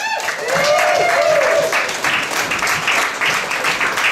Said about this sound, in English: I want everybody to give a big round of applause for Scott McDermott!